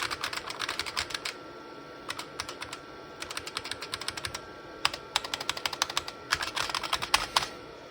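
Fingers type on an IBM Model F computer keyboard hooked to an IBM 5160 PC: close, crisp keystrokes in quick bursts, with short pauses between runs.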